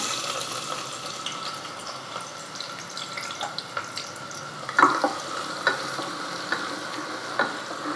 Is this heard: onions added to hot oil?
yes